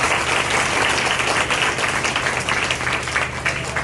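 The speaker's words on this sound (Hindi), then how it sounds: "ताली बजाओ" Steady, loud audience applause filling a church gathering, dense continuous clapping from a large crowd held at an even level throughout.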